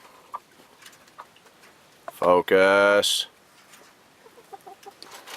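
Eight backyard chickens, including a bantam and a silkie, settle into a converted camper coop, giving soft scattered clucks and one loud burst of squawking up close; a person briefly speaks.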